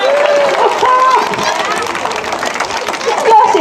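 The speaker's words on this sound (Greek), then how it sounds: "Χειροκροτήστε." Theater audience breaks into applause, a dense wash of clapping with crowd murmur and voices mixed in, sustained and fairly loud throughout.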